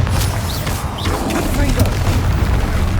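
A Bombarda spell explodes in the Hogwarts Legacy video game, one deep boom rolling over a dense, continuous wash of combat noise and effects with no clear break.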